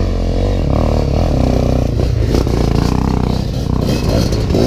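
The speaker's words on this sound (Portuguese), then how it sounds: "Duas motos, parece." Two dirt bikes ride past on a trail, engines loud and close, revving and rising in pitch as they pass, with clattering from the rough ground.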